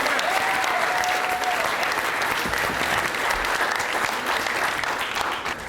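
An audience gives a big round of applause during a comedy panel show, with dense, sustained clapping and a brief whistle near the start that continues evenly for several seconds.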